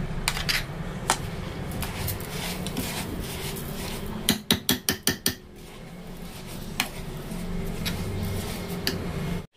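A spoon mixing ingredients with milk in a bowl, scraping and clinking throughout, with a quick run of rapid sharp taps in the middle.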